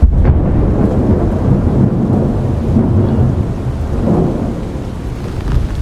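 Thunder rumbles low and steady beneath continuous rain on a high Himalayan mountain trek in Kumaon, a dense, loud wash of storm noise with a deeper swell of thunder near the end and no voices.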